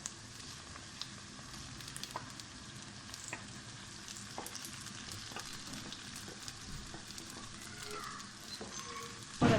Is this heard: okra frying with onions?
yes